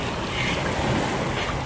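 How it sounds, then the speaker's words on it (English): Ocean waves crash steadily onto a sandy, rocky shore, a loud, continuous wash of surf and roaring water with wind buffeting the microphone and no pauses or voices. "these waves are really kicking and it's going to take any debris and move it"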